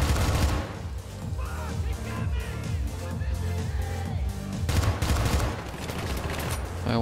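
Gunfire erupts in the video game Syndicate, rapid repeated shots in dense bursts over a low rumble, loud and continuous, with a brief louder burst near the end.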